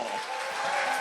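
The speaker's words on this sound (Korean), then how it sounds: "멋진 환호와 함성 부탁드립니다" Audience at a 2017 FLC talk concert breaks into applause and cheering, a dense, steady wash of clapping and crowd noise that fills the short moment without pause.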